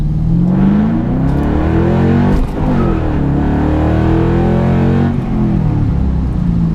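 A car with about 302 wheel horsepower driving on the road, a loud steady engine drone that rises and falls in pitch through gear changes, with no talking.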